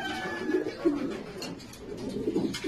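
Pigeons coo steadily inside an old-bird racing pigeon loft, soft low calls repeating close by with occasional wing flutters and faint chirps, with no talking.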